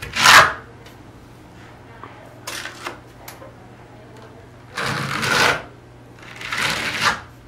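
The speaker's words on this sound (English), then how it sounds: "Again, I'm just kind of smearing it on. Generous amount." Glass bead decorative finish smeared onto a surface with a tool, gritty scraping strokes in four separate bursts of uneven length, separated by quiet pauses.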